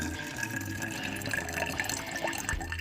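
Coca-Cola is poured into a can holding pennies, giving a close, continuous fizzing trickle with gurgles and small splashes.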